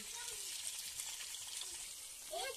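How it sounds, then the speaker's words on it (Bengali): Potatoes frying in oil in a kadai for a chicken curry, giving a steady, soft sizzle close by with faint stirring sounds toward the end. "আর এদিকে রান্না আলু চেপে গেছে, কড়াইতে আলু ভাজা হচ্ছে।"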